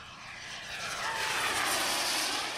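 A propeller airplane performs aerobatic rolls at an air show, its engine drone swelling louder as it passes fairly close, with no talk.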